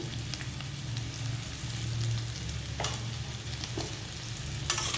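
An okra and potato curry with added salt is stirred in a hot pan, giving a continuous close sizzle broken by a few sharper scraping strokes of the spoon.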